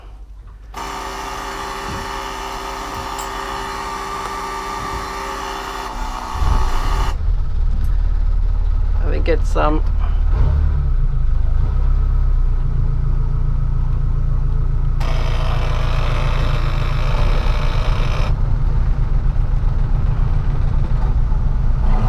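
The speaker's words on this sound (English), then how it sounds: "I always start with the port engine, because my connection is that the port engine is charging the start battery." A boat's port engine starts and settles into a steady, loud idle that runs on continuously, with a brief word spoken early on.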